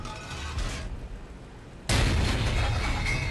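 Panzer III tank cannon firing in the IL-2 Tank Crew game: one sudden loud boom partway through, then a sustained broadband roar over the vehicle's low rumble.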